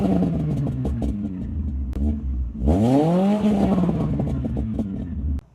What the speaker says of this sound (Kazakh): Мінекей оталдар кезде push startты баса саласын.